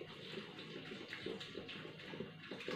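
Liquid for a homemade banana and date shake pours steadily into a blender, a continuous close watery rush with no talk over it.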